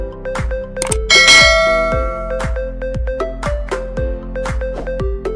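A small bell sound effect chimes in a quick, regular series of about ten bright dings, with a louder shimmering cluster near the start, alone and close.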